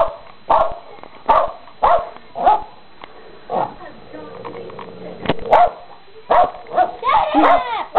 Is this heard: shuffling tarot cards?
no